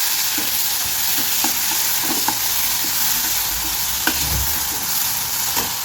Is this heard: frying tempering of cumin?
yes